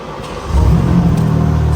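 BMW G82 M4 with a downpipe and valve controller starts up, a brief cranking then a loud deep revving catch that settles into a rumbling idle close by.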